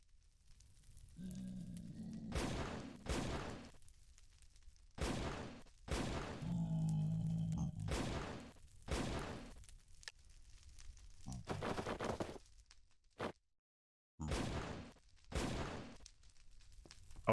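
A gun fired in modded Minecraft Sky Factory 3 gives a series of sharp, loud bangs in irregular bursts, some doubled, separated by short silences, with brief background rumble between shots.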